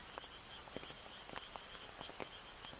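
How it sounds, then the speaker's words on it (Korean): A stream flows at night with a faint, scattered patter of small drips and splashes, much like light rain, over a soft continuous hiss, with no voices. "다시 들려오는 밤 시냇물 소리, 마치 비가 내리는 소리 같다"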